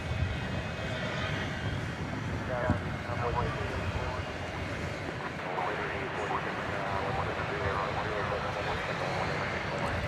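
An American Airlines Airbus A321 jet approaches the runway at Dallas Fort Worth airport after dark, heard as a broad, steady engine roar that holds throughout with a faint distant quality and no clear peak.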